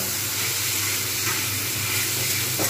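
Potatoes seasoned with turmeric and salt fry in a pan with a loud, continuous sizzle and a few small stirring scrapes near the end, and no talking.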